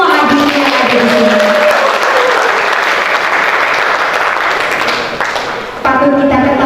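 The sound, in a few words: applause for the audience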